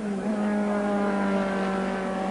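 A 1987 touring car race car rolls down the Silverstone pit lane, its engine holding a steady, tonal drone at moderate distance, with no voices over it.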